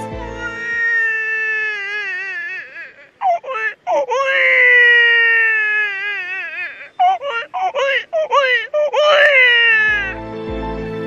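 A voice imitates a crying baby, wailing in long rising and falling cries broken by short sobbing gasps and whimpers, loud and close for about ten seconds.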